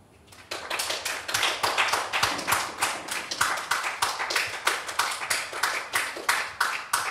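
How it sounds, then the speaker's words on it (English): A small lecture audience claps after a talk on the bitter essence in smell. Individual hand claps are distinct and fairly close, starting abruptly and continuing at a steady, moderate level. "please give her a very warm applause."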